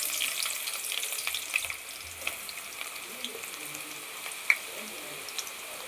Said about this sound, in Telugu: ఇప్పుడు ముందుగా చాప్ చేసుకున్న ఆనియన్ ఆయిల్లో వేసేసుకుందాం.